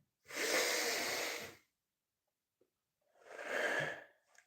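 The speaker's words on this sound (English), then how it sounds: "you take a really deep breath in" Two deep, close breaths rush through the airways, a long forceful inhale of about a second and a half followed after a quiet gap by a shorter second breath, alone with no talking.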